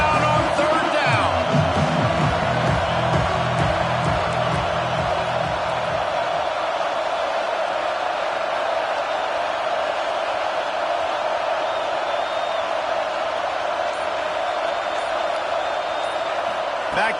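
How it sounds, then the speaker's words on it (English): Roaring football stadium crowd cheering the Gators' defense on third down, a dense, sustained wash of noise from a large gathering that runs throughout beneath a commentator speaking. "This crowd unhinged, trying to make sure the Gators don't back down on third down."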